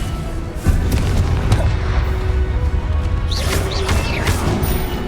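Confringo fire spells blasting during Hogwarts Legacy combat: loud, dense booms and crashing impacts pile up continuously over rumbling battle noise, with bright magical whooshes near the end.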